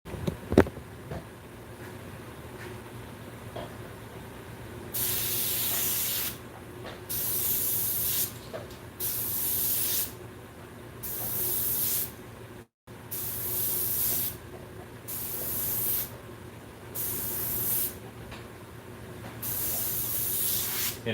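Airbrush spraying paint through a hose: repeated bursts of close, steady airy hiss lasting one to two seconds each, separated by brief gaps, over a low background hum, with no voices.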